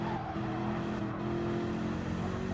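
A GR3 race car engine drones steadily at high revs on the Nurburgring Nordschleife in a racing video game. The engine holds constant and fairly loud, with faint tire squeal and a rising whine near the end.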